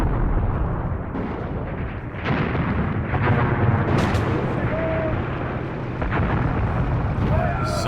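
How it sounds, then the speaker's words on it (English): Mortar blasts and machine gun fire rumble and crackle almost continuously in the war video game Graviteam Tactics Mius Front, loud dense bursts with occasional sharper cracks and a faint whistle. "we should have, yep, some mortars and machine guns"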